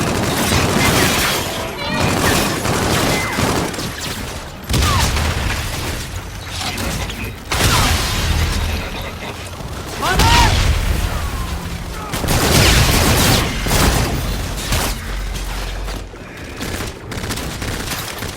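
Grenade blasts and gunfire from the first-person shooter Call of Duty: Infinite Warfare, a dense battle din of repeated booms and rattling shots, with in-game voices talking over it throughout.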